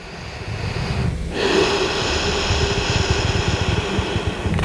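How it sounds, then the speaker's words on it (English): Deep, audible breaths through the nose during a morning yoga flow, close and forceful, with a loud inhale followed by steady rhythmic airflow and no talking. "Keep breathing and connecting to your breath."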